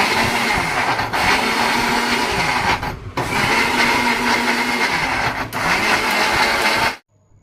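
A kitchen blender grinds cut pieces of bish kochu (taro) for cooking, giving a loud, steady whirring roar that runs in three long bursts with brief pauses between them, then cuts off abruptly.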